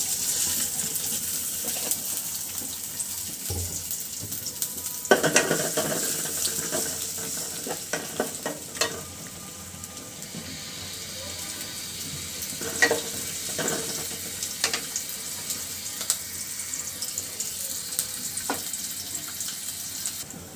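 Chopped onion and oil sizzle and fry steadily in a cooking pot for a curry, a continuous hiss with scattered clinks and stirring knocks and no talk.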